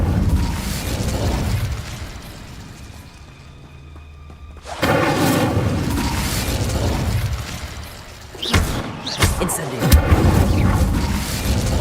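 An Incendio fire spell is cast in the Hogwarts Legacy video game, a loud whooshing burst of flame and crackling impacts amid game music and ambience, with more popping blasts toward the end and some talk.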